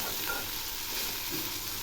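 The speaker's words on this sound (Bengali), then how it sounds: "দেখুন সবজিগুলো অনেকটাই মজে আসছে, আর এর মধ্যে একটু তেল চিটচিট করছে।" Vegetables for a drumstick-leaf dish frying in plenty of oil in a pan, giving a steady, loud, close sizzle with no talking.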